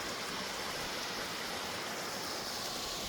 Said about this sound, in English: I'll go feel that water coming out of that pipe